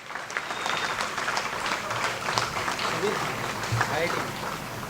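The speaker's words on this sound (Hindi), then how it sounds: "जोरदार तालियां इसके लिए" Audience at a student honouring event in Jodhpur breaks into dense, steady applause, a continuous wash of clapping that holds at an even level throughout, with some voices faintly mixed in.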